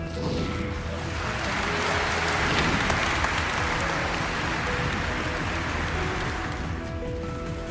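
Thunderous applause from a large crowd at an honouring ceremony, a dense, continuous roar of clapping that stays loud and even from start to finish.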